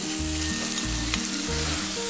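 Chopped tomatoes go into a pan of onions frying in oil, giving a loud, steady sizzle with periodic stirring scrapes throughout and no voices.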